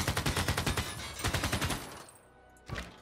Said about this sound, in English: Now this machine gun can fire on these guys.